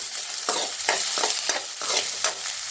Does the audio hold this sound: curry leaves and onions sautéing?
yes